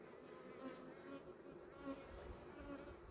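Honey bees buzzing at an open hive in late September in a steady, faint drone, many insects humming together at a distance, with no talking.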